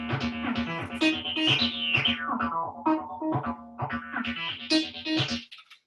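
Roland TB-303 bass synthesizer playing an acid bassline, a squelchy, resonant filtered sequence of rhythmic notes with sweeping tone changes, clear and alone, ending abruptly.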